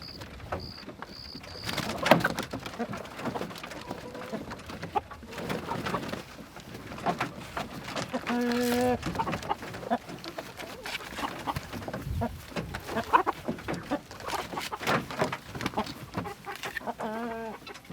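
Chickens cluck and chatter near at hand inside a poultry electric netting pen, with varied calls and a few louder squawks scattered across the stretch, plus faint pigeon-like cooing and occasional bumps.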